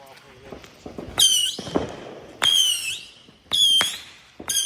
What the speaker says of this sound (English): That's 25 shots to go off over there.